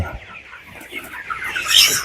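Broiler chickens on a poultry farm, 21 days old, cluck close by in a short burst of overlapping calls, rising to a louder, shriller squawk near the end.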